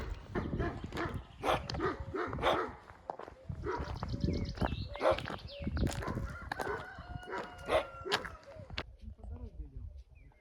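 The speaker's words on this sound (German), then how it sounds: "Da kommt schon wieder ein großer Hund." A dog barks repeatedly nearby on a Lycian Way trail in Turkey, amid other animal calls, including a rooster crowing, with footsteps and a person's voice mixed in.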